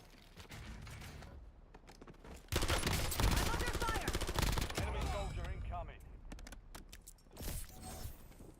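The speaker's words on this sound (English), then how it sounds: "I'm under fire" Rapid gunfire bursts and mechanical weapon clatter from the Call of Duty Warzone video game, loud and dense for several seconds, with game voice lines mixed in.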